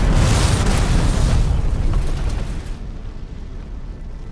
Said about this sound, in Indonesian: satu tembakan di antaranya berhasil membuat salah satu mobil oleng yang mengakibatkan ledakan besar